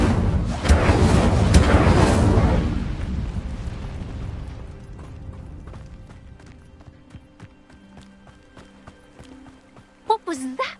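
An Incendio fire spell cast in Hogwarts Legacy bursts out loud with a roaring, crackling whoosh that fades over several seconds into quiet game ambience, before a short voice cuts in at the end.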